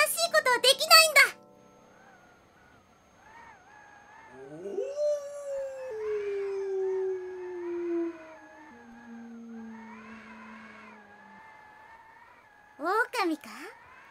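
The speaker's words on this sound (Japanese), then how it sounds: "狼か" A wolf howls in a radio drama, one long drawn-out cry that rises and then slowly falls over several seconds, moderately loud against a quiet background, with short sharp bursts of other sound at the very start and end.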